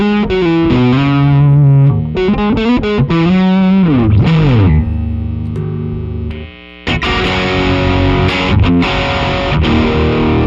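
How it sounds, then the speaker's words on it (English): Loud distorted electric guitar, a Jazzmaster with single-coil pickups, playing chords and sliding notes, thick and saturated, with a brief drop before heavy strumming resumes. "single coils with distortion sounds really cool"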